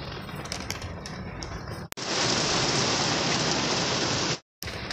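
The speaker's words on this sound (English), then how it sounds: "it's raining right now." Heavy rain pours steadily during a storm with tornado warnings nearby, a dense, loud hiss of drops on surfaces, briefly cut off twice before resuming.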